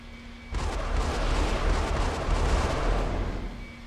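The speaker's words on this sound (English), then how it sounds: "And this is just a carpet bombing run." Carpet bombing in the mobile strategy game ICBM, with a dense, continuous roar of rumbling explosions that starts abruptly, rolls on for about three seconds and then fades, loud and without voices.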